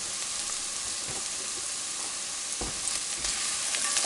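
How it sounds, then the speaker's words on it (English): Caramelizing onions with thyme and a bay leaf sizzle steadily in a pan, a dense continuous hiss broken by a few soft scraping knocks of a spoon stirring, close and fairly loud. "Get these stirred in and let them release the flavors."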